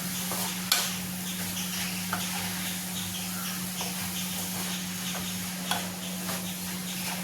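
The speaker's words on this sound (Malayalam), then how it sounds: "എന്നിട്ട് മൊത്തത്തിലൊന്ന് നമുക്കൊന്ന് ഇളക്കി കൊടുക്കാം" Chicken and spinach stir-fry being stirred in a pan, with a steady close sizzle and hiss under a few sharp spoon clicks scattered through, no voices.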